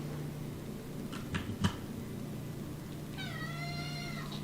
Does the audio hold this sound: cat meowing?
yes